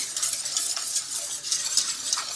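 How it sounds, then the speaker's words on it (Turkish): Milk pudding for a magnolia dessert being stirred in a pot on the stove, a steady close hiss and soft scraping that runs evenly throughout with no voices. "Muhallebimiz kaynayana kadar karıştırıyoruz"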